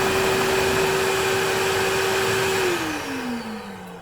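A vacuum hose pulling dust from a Ridgid oscillating belt and spindle sander roars with a steady whine and hum, then the pitch winds down and the sound fades toward the end.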